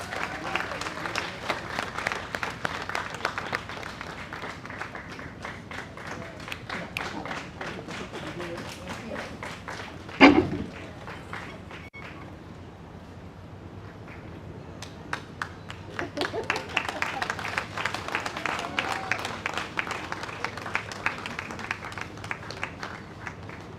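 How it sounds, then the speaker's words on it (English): Audience applause at a Guyana and Caribbean vaccination launch ceremony as a nurse is called up to collect her award, a steady wash of clapping that dips briefly midway with one sharp thump, then swells back. "Please, let's give her a round of applause."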